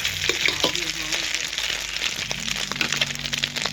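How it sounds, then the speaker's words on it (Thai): Eggs frying in a pan during a home morning meal, a steady close sizzle and crackle running throughout with faint voices and clatter underneath. "ทอดไข่"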